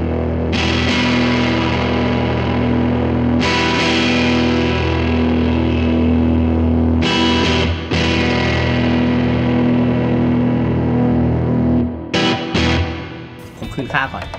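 A heavily distorted electric guitar through a Line 6 POD Go sustains thick, saturated high-gain chords, with a few sharp choppy hits near the end.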